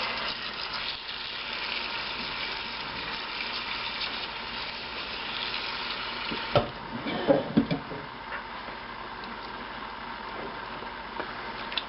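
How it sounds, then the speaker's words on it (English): Hot water running from a tap to wash honey out during a honey harvest: a steady, even rush of flowing water with a few brief knocks and splashes near the middle. "you want hot water. You do not want cold water"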